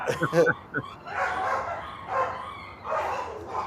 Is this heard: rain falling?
no